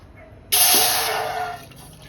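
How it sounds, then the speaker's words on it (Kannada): Water pours into a pot set on a gas stove for making kashaya, a brief, loud, splashing gush that starts suddenly and tapers off after about a second. "ನೀರು ಹಾಕ್ಕೊತಾ ಇದ್ದೀನಿ."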